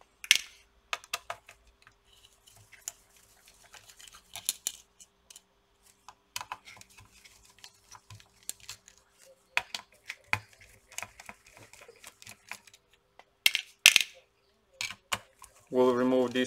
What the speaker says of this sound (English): removing the screws, of course.